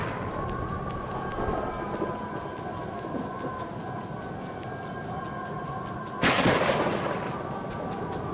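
Steady rain hisses in the Road 96 video game, with a low rumbling bed beneath and a sudden sharp thunderclap crashing in late, fairly quiet overall and without voices.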